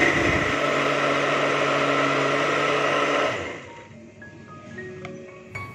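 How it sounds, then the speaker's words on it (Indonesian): A kitchen blender whirs loudly, blending lemongrass and spices with a little water, then winds down after about three seconds, leaving faint clinks and quiet room sound. "Ini mau saya campur di blender ya biar nanti pepesnya juga wangi banget rempahnya."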